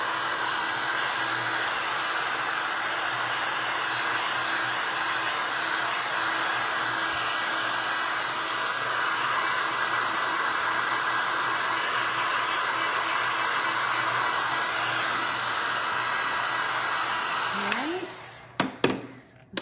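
A hair dryer blows steadily to dry paint on a paintbrush for a mixed media craft, giving a loud, constant whirring hum that cuts off near the end with a few clicks and knocks.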